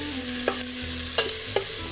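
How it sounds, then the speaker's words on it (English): Chopped onion frying in hot oil for meat sauce, a steady close sizzle with a few sharp clacks from stirring, no voices. "So oil is hot. We're gonna throw in our onion."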